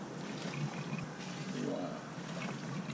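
Coolant being drawn out through a hose into a small red bucket while draining a Land Rover Defender's tank, heard as a steady close liquid trickle and gurgle with faint voices in the background.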